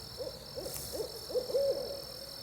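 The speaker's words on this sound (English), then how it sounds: "I did pretty good at calling in some owls" A series of soft, low owl hoots repeats at an uneven pace on North Carolina game lands, several short calls building into a longer wavering hoot, fairly distant over a steady high hiss.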